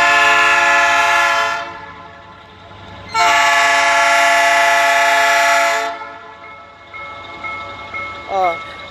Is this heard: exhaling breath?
no